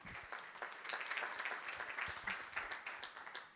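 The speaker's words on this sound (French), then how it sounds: "on peut l'applaudir aussi" Audience applause at an association's general assembly meeting, a steady patter of many hands clapping in a room, moderately distant and even, with no talk over it.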